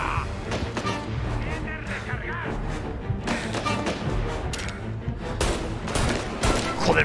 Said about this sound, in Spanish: me está disparando de espaldas